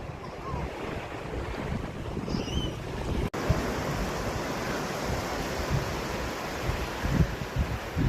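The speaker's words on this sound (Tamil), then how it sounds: "அலைகள் சுருண்டு சுருண்டு வருது, மீண்டும் மீண்டும் வருது." Sea waves roll continuously onto a shore, a steady broadband wash with wind buffeting the microphone throughout, plus a brief dropout partway through; no one speaks.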